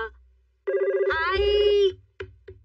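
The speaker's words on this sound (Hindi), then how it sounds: "किसका फोन होगा?" A cartoon telephone rings in a Shinchan episode, a bright electronic trill sounding in one long burst followed by two short chirps, close and clear with a voice speaking briefly between the rings.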